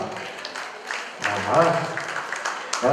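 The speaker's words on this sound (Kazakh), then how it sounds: "Құда атаға шапалақ бар ма ағайын?" Guests at a 60th birthday jubilee celebration clap in a scattered burst of applause that swells and carries on under a host's amplified voice.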